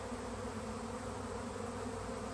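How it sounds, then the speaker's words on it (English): A swarm of honey bees makes a dense, continuous buzzing drone that fills the air steadily throughout, close and unbroken, with no voices. "I don't know where these bees came from. There's quite a bit, though."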